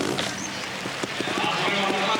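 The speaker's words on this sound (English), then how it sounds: "listen to the grunt in that 250cc Honda engine" A 250cc Honda trial motorcycle engine revs at an indoor trial event in Barcelona, firing in a rhythmic run of low, grunting pulses beneath a constant crowd roar, with a commentator talking over it.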